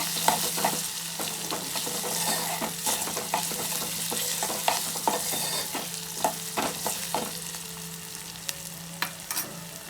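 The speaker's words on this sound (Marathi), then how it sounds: "थोडं मीठ टाकलं की कांदा आणि टोमॅटो चांगला शिजेल" Onion and tomato frying in a pan with a little salt, a steady sizzle broken by frequent scraping stirs of a spoon, close and fairly loud with no talking.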